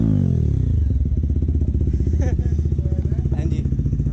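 Loud, rapid exhaust burble from a TVS Apache motorcycle with a full-system exhaust and its dB killer removed, idling and blipping steadily nearby with a dense thumping pulse throughout.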